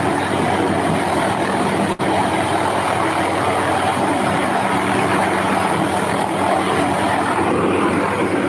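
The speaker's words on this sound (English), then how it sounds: "Oh, see, that's a helicopter." A steady, loud aircraft engine drone fills the whole stretch, a constant rotor-like roar overhead with one brief dropout early on.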